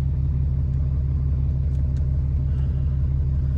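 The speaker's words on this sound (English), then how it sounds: "Well, instead of walking, I'll just drive there." A minivan drives with a steady, loud low engine rumble and road drone that holds constant throughout, close and alone without talk.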